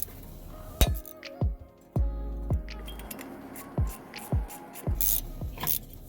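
A stuck brake rotor is forced off its hub as bolts are threaded in evenly with a ratchet, giving a series of sharp metallic clinks and ticks at irregular intervals, close and fairly loud.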